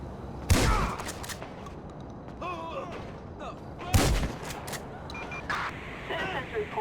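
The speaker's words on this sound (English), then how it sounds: "Citizens reporting shots fired near, Smith Rec Center." Gunfire rings out during a jewelry store heist mission in a video game, two loud close bursts separated by background chatter, sirens and game effects, with people talking in between.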